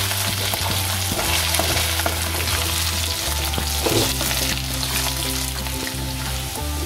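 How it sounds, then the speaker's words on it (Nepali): Potatoes and onions frying together in a pan, turning red-brown, with a steady dense sizzle and crackle throughout, plus occasional stirring scrapes, close and fairly loud with no talk. "हाम्रो आलु सँगसँगै प्याज पनि रातो भएर भुटिएको छ।"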